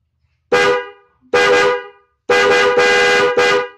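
A Denso waterproof car horn pair, fitted left and right, sounds in loud, close blasts: two short honks, then a longer run of honks with brief breaks, with nothing else heard.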